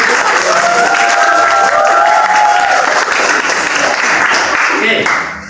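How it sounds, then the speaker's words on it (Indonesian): An indoor class or workshop audience gives steady applause for a presenter, dense clapping sustained for several seconds before fading at the end, with voices mixed in under it. "Tepuk tangan untuk Pak dulu"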